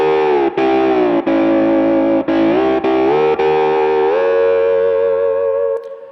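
A sustained, distorted electric slide guitar sliding between diminished chords, with brief breaks between changes before the final chord fades out.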